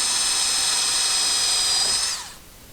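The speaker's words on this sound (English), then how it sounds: "when we drill through, there shouldn't be any splintering" Power drill boring through a door with a wood block behind it, a steady high-pitched whine that holds for about two seconds, then winds down and stops.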